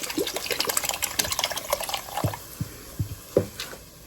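Vegetable broth poured into a cooking pot, a continuous liquid splash and gurgle with scattered drips and clinks, fairly close and without talk.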